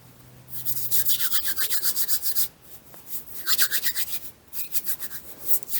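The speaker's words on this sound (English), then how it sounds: "Just rub your hands together" Hands rub fat into flour for old-fashioned raspberry jam bun dough, giving a steady rhythmic scratchy rustle in quick strokes, close and fairly quiet, in two runs with a short pause between.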